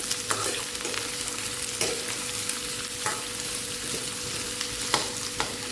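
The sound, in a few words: onion frying in oil until pink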